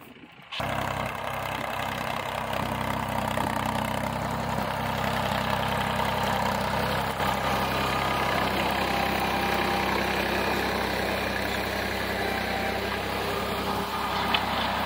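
A tractor engine runs steadily at a constant pace in a pomegranate orchard, a close, even mechanical drone that barely changes and has no voices over it.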